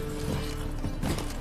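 Hooves of Roach, a galloping horse in The Witcher 3, thud in a quick, uneven clip-clop over about a second and a half of steady game background noise.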